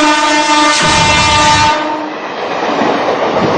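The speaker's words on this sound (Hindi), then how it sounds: "मुंबई से सूरत की ट्रेन चल रही है, इसे इंटरसिटी के नाम से जाना जाता है।" A Mumbai to Surat intercity passenger train rolls past close and loud, its horn blaring over the rumbling wheels before giving way to steady rail clatter.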